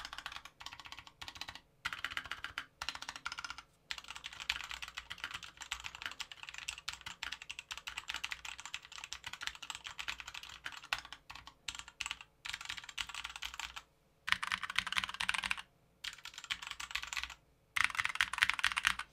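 A compact gaming keyboard fitted with thin HK Gaming pudding keycaps is typed on in quick, continuous bursts of close clacking keystrokes, broken by a few short pauses, fairly quiet overall and with no talking.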